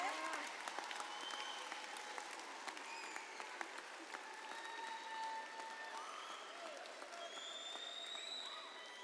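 Applause from the audience at a 2021 Washington High School graduation ceremony, a faint, distant, steady patter of clapping that runs throughout with no voices over it.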